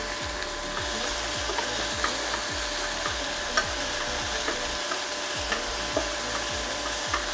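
Onions roast in oil in a pan, a steady loud sizzle with repeated scraping strokes of a spatula stirring them at a regular pace.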